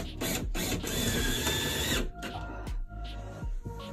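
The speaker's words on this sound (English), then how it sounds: "putting in the last couple of screws here in our riverwood staircase cluster" Power drill driving the last screws into a riverwood staircase cluster in a natural building, a loud steady whirring burst for about two seconds followed by shorter intermittent spurts and mechanical knocks, with no talking.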